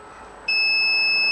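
A multimeter switched to continuity mode emits a steady high-pitched electronic beep while probing for ground on an HP laptop that won't charge or power on; the tone starts abruptly partway through and holds loud and constant.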